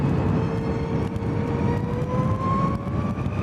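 A Zero electric motorcycle in eco mode runs at full throttle, its thin electric whine rising steadily in pitch over loud, constant wind rush, with no talking.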